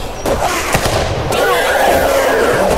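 Gunfire aimed at zombies in 7 Days to Die, a dense, loud run of cracking shots and bursts that continues without a break, with possible voices in the mix.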